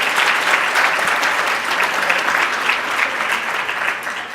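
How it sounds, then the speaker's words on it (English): An award luncheon audience applauds the honorees with steady, dense clapping that carries loud and unbroken for the full stretch, easing slightly at the very end. "Let's give another round of applause for all of the awardees today."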